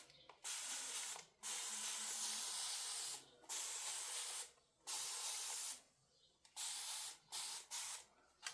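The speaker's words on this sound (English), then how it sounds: "And then let's heavily spray it." Spray bottle heavily spraying water onto a piece of furniture during a makeover, a series of close, loud hissing bursts of uneven length separated by short pauses, with no talking.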